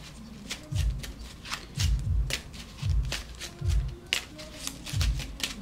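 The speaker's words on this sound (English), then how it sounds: "I'm going to shuffle first." A deck of playing cards is riffle-shuffled repeatedly at close range, five quick bursts of fluttering card snaps each ending in a soft tap, quiet and without speech.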